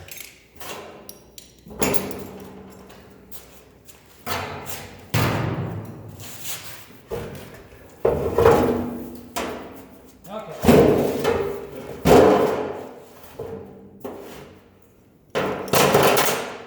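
Hammer blows knocking spot-welded sheet metal pieces apart, a series of loud irregular metallic clangs and thuds spaced a second or two apart, each with a short ringing decay.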